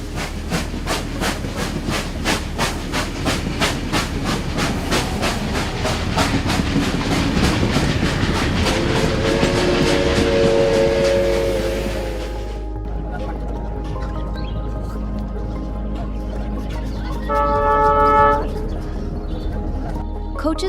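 An overcrowded passenger train in the Bangladesh countryside, with rhythmic clickety-clack of wheels over rail joints and a loud rumbling roll that fades into a steadier hum, then a brief tonal horn-like sound near the end.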